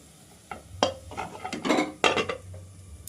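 A lid goes onto a cooking pot of aloo posto with a handful of metallic clanks and scrapes, close and irregular, against a quiet low background.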